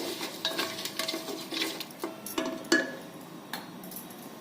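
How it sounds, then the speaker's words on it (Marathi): A yogurt and spice mixture is stirred and sautéed in a pan for green peas pulao. Repeated clicking strokes of a spoon against the pan sound over a soft, faint sizzle, with no talking. "आपण दह्यामध्ये जे मिश्रण तयार केलं होतं ते यामध्ये घालायचंय आणि हे मिश्रणातून तेल बाहेर पडूपर्यंत हे परतून घ्यायचं"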